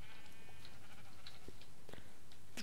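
A few short sheep bleats from Minecraft sound at scattered moments over a low, steady background hum, each call brief and moderately close.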